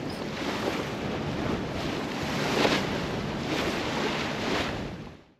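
Gentle lapping of a small tidal bore (mascaret) wave, a continuous soft wash of water with breathy wind noise, fairly loud and unbroken before fading out at the end.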